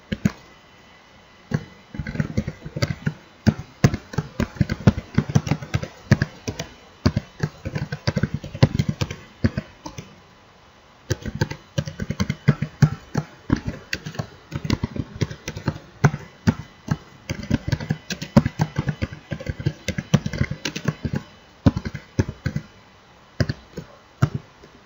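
An MDX query is typed on a computer keyboard: dense, close clicking keystrokes in irregular bursts with short pauses, running throughout.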